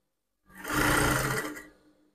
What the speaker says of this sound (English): Just make sure that you sew along the iron edge.